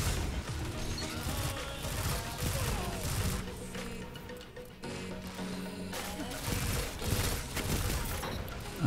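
Vigilance Wing, an exotic pulse rifle in Destiny 2, fires in repeated bursts amid dense game audio of impacts and effects, loud and near throughout.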